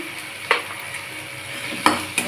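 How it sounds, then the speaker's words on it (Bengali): Ginger paste and spice masala fry in oil, a steady sizzle broken by three sharp spoon scrapes against the pan as the mixture is stirred. "ভালো করে মশলাটাকে কষিয়ে নেব।"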